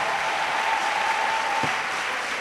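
A church congregation claps together as an offering of applause, a dense, steady wash of hands filling the room for a couple of seconds.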